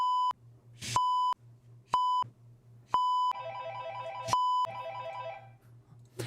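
A telephone rings for an incoming call, loud and close: repeated electronic ring bursts alternating with a steady tone and low hum, with a brighter trilling ring layered in toward the end, no talking.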